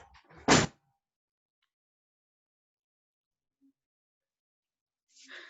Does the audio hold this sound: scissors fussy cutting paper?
no